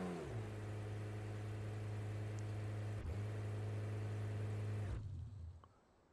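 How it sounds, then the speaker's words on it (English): A loud car engine idles in the BeamNG.drive driving game, a steady low drone with a brief dip near the middle before it fades out, with no talk over it. "I'm not driving that car. It's loud as all hell."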